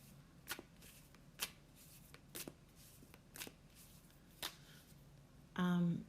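A deck of oracle cards is shuffled in a quiet room, making a series of sparse, crisp riffles and snaps spaced about a second apart, followed by a brief louder rustle at the end.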